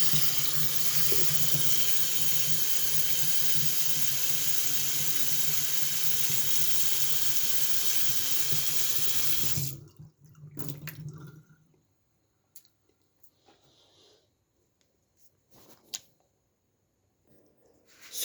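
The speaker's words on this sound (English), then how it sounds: "just go like that with the tap water" Tap water gushes loudly and steadily from a faucet into a sink for about ten seconds, then cuts off, leaving faint drips and small handling noises in near silence.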